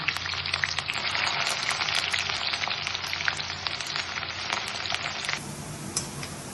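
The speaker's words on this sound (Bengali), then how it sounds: "এবার যে 2টো পেঁয়াজ কুচিয়ে রেখেছিলাম সেই 2টো পেঁয়াজের বেরেস্তা বানিয়ে নেব" Two chopped onions fry in hot oil in a wok, browning into crispy fried onions for mutton rogan josh. A continuous, close sizzle crackles steadily, with no voices over it.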